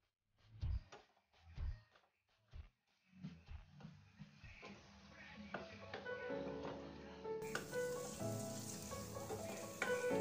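Fenugreek seeds sizzle in hot oil for a ginger curry, a steady crackling fry building up after a few separate knocks and clatters of cooking utensils.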